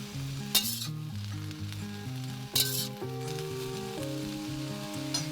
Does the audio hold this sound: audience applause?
no